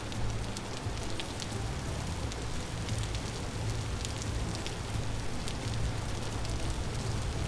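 Steady rain falls in the Vintage Story video game, a dense continuous patter across a rough outdoor area, with a low rumbling undertone and no voices.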